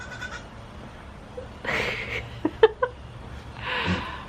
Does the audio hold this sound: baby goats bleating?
yes